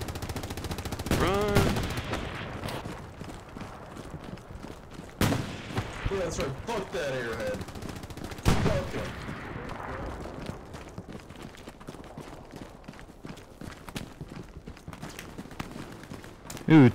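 Gunfire in the World War II shooter Hell Let Loose, with sharp loud shots cracking out at irregular intervals over a rumbling battlefield, some rapid bursts, and voices talking in between.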